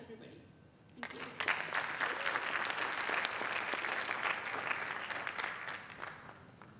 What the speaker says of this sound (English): let's give our judges one more huge round of applause